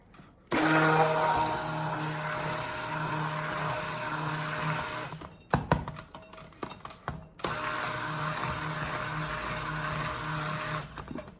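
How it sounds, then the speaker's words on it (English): A stick blender whirs steadily for several seconds in cranberry seed soap batter, stops briefly amid clatter and handling noise, then runs again in another sustained burst. "I'm going to give this a pulse, a little bit of pulse with the stick blender, not too much."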